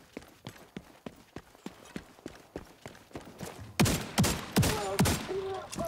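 Shotgun fire in The Division 2 video game, a rapid evenly spaced string of sharp blasts that grows louder and heavier partway through, with faint background game sounds.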